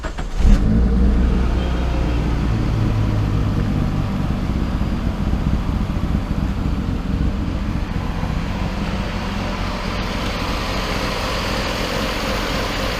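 A 1995 Proton Satria engine fitted with a high-lift cam and standard exhaust runs steadily at idle after a brief louder burst at the start, giving a constant, fairly loud mechanical drone throughout.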